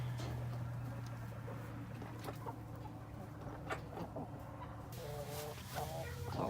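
Chickens cluck softly here and there over a steady low background hum, the calls faint and scattered.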